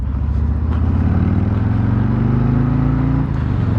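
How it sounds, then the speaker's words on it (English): A 2024 Harley-Davidson Road King Special engine grunts as the throttle rolls on, a deep, close, pulsing rumble that swells steadily while the bike rides along. "You heard that grunt come out of her once you rolled on throttle."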